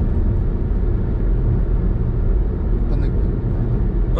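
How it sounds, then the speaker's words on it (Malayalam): An MG ZS EV electric car launching hard gives a steady, loud low rumble that holds throughout, with a faint airy rise near the end. "വണ്ടി ഇങ്ങനെ ലോഞ്ച് ചെയ്ത് പോകുമ്പോഴേ മറ്റേ ഫ്ലൈറ്റ് വന്ന് ഫ്ലൈറ്റ് പോണ പോലെ"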